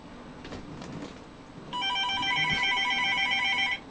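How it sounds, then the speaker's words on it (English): A telephone line rings with an incoming return fax call through a magicJack device, a steady electronic warble starting partway in and holding loud after a few faint background knocks. "now I'm receiving the call"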